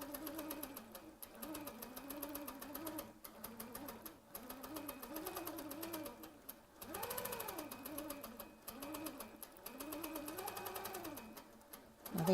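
A Handi Quilter Avante longarm quilting machine stitching small feathers at 16 stitches per inch, a steady rapid mechanical hum with a fast needle rhythm that speeds and slows in waves, continuous and fairly close.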